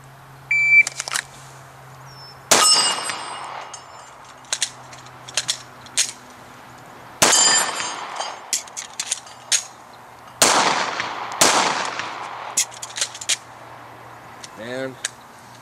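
Shot timer beep followed by handgun shots fired with experimental reloaded ammunition that malfunctions, loud sharp cracks in uneven bursts separated by pauses and mechanical clatter as the shooter clears stoppages, with a second short beep near the end.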